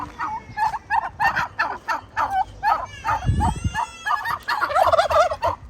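A turkey gobbles over and over in quick rattling bursts near a village house in Savannakhet, Laos, with a brief low thump midway and a few sharp yipping calls mixed in.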